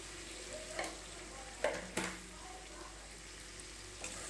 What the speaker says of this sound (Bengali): এবার মশলাটাকে আমি খুব ভালো করে কষিয়ে নেব